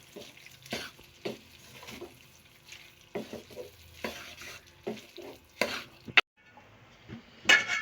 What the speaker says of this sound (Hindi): ये सारे मसाले इसमें डाल देंगे और अच्छी तरह से इसे मिक्स करेंगे और भूनेंगे